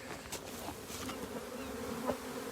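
Honey bees swarm and buzz around an open hive at a bee company in Encinitas, a steady close droning hum with a few louder passes near the microphone and no talking.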